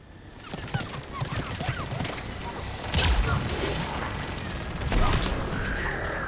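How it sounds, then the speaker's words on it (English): Rapid weapon fire in Mass Effect 3 Legendary Edition during the battle for Thessia, a steady crackling barrage with heavier impacts punching through about halfway and again near the end. "Switching to the gun."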